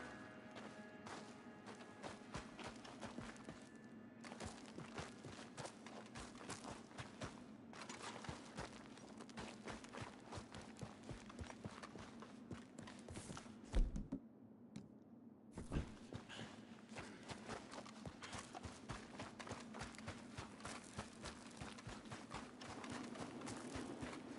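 Horse hooves clip-clop steadily in Red Dead Redemption 2 as a white horse walks, a near, continuous rhythmic thudding that carries through most of the stretch with only a brief pause.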